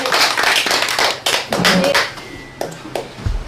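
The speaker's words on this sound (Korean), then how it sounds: "우리 후보님에 대해서 박수 한번 해주세요" A crowd at a local party office meeting claps for a candidate, a dense burst of hand applause that thins out over a few seconds, with brief talk near the end.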